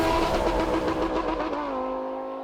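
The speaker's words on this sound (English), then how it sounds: "The Huracan not only sounds like a race car" A Lamborghini Huracan V10 engine revs hard and close, a loud harmonic howl that climbs and then settles into a steadier, fading drone.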